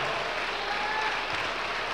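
A church congregation applauds in a sustained, even wash of clapping from many hands, filling the space without a break.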